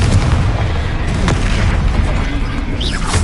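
The Confringo blasting spell in Hogwarts Legacy on PS5 erupts in loud, dense explosive booms, a continuous heavy low rumble with a sharp crack near the middle and a rising whoosh toward the end.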